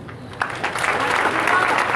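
Graduates at a senior high school commencement applaud their parents, elders and teachers, a broad crowd clapping that swells into a dense, steady roar with a faint voice underneath.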